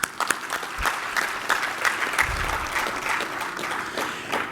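Audience clapping at an International Women's Day gathering, a sustained burst of hand claps from a modest crowd that carries on steadily with a few sharper claps at the start.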